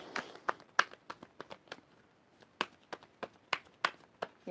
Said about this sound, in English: You're hearing me shuffle.